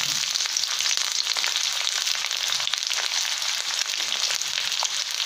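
Onion sizzles steadily in hot oil in a pan, a dense continuous frying hiss with fine crackles running throughout, close and fairly loud, with no voices.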